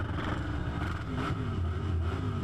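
A car's engine roars steadily at a burnout event, loud and close, with a rough, continuous rumble and no letup, running while a drivetrain failure, such as a broken tail shaft or gearbox, leaves the tyres not turning.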